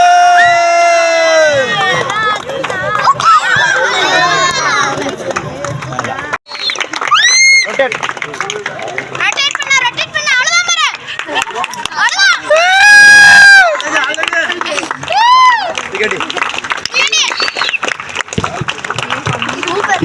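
A lively outdoor crowd cheering, whooping and clapping for young men attempting to lift a heavy traditional stone in Rayakottai, loud shouts and whistles rising and falling, with a sustained roar midway and voices talking throughout.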